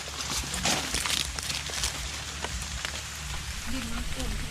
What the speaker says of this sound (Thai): ฝนมันตกขากดมุไม่เดียบเนาะ